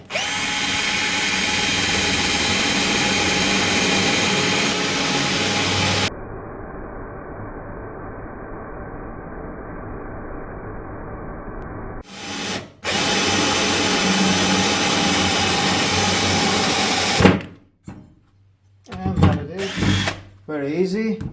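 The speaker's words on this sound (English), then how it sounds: "Going to drill in metal, see how it goes. Drilling, and here is drilling." A Parkside PABS 20-Li D4 cordless drill bores into metal in long, loud, steady whirring runs, dropping to a lower drone partway, then stopping and starting in short bursts toward the end.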